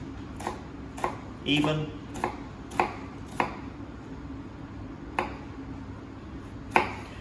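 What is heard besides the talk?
knife slicing onion vertically for brunoise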